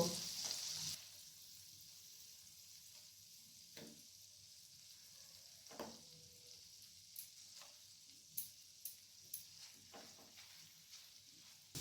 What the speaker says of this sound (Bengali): পনিরগুলোকে মিডিয়াম আঁচে রেখে হালকা করে ভেজে নেব